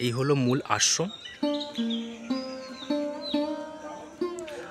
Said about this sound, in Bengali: সারাক্ষণ পাখির কিচিরমিচির এখানে শোনা যাচ্ছে।